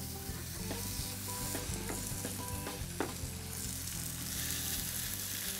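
Homemade salmon cake patties fry in oil in a non-stick pan, giving a steady, soft sizzle with light crackles and occasional small pops throughout.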